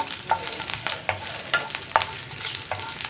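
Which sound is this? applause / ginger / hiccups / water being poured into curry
ginger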